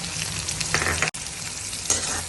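Chopped onion sizzles and crackles while being stirred in hot oil with garlic, green chili and cumin for a besan pithla. The frying is close and continuous, with a brief cut partway through.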